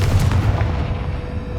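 A Confringo blasting curse explodes in Hogwarts Legacy, a heavy booming blast with a sharp attack that rumbles on and slowly decays over a second and a half, loud and alone.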